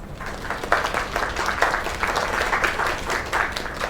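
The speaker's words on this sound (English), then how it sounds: "Another round of applause." A video game crowd claps and applauds steadily, a dense wash of hand claps lasting the whole stretch with no one speaking over it.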